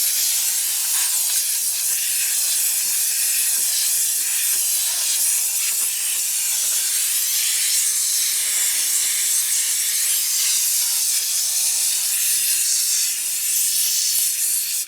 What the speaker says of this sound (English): So I'm going to end this session with just another steam cleaning.